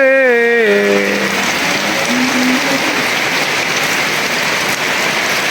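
Heavy rain pours down in a loud, unbroken roar outdoors during a storm, opening over a brief fading tone before the downpour continues evenly on its own.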